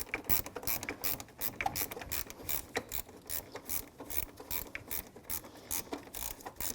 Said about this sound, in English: the other end of the air dam hose, 7mm socket. Loosen this clamp up.